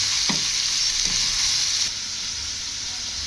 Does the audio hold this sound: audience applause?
no